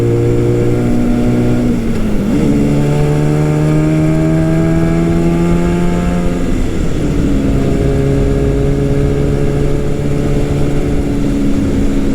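A 1969 Yamaha R3 350 two-stroke motorcycle with stock exhaust is ridden on the road, its loud buzzy engine rising through the gears with clear shifts and drops in pitch, steady and close.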